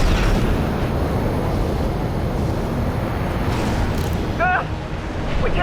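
A sub-generator explodes in the Armored Core VI mech combat game, filling the scene with a loud, sustained roar of rumbling blast noise. A brief chirping voice cuts in near the end.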